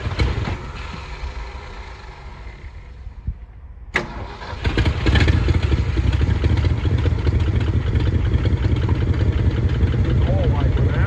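An old truck, unstarted for 20 years, cranks and catches with a sudden start, then settles into a loud, steady rough idle close by, with people talking over it.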